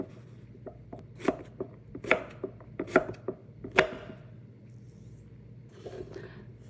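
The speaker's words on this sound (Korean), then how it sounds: "무도 한 토막 얇게 나박나박 썰어 주세요." A knife slices zucchini and radish into thin pieces on a cutting board, giving a run of soft, crisp taps in an uneven rhythm over a faint kitchen hum.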